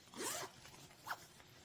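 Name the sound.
zipper of a travel pouch being opened or closed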